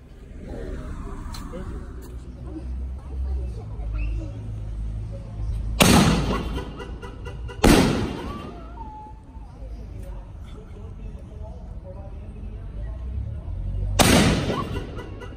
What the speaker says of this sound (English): alien neon invasion shells, 60 gram, super canister shells.